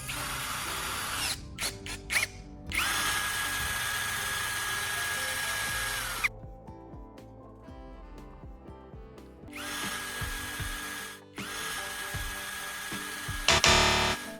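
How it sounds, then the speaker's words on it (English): A spinning drill turns a knife blade against a metal surface to sharpen it. Loud sustained whirring runs in long stretches, broken by short stops and restarts, with no talk. "the spinning motion ensures steady contact between the blade and the metal surface, helping the edge recover faster and more evenly"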